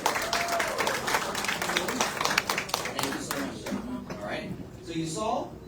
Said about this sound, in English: Big round of applause for emGuarde!